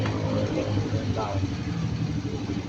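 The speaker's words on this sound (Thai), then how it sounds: "เครื่องยนต์ติดง่าย เดินเบาได้" A carburetted engine idles steadily, a continuous mid-pitched running hum throughout with a faint rising tone near the middle, and voices mix in.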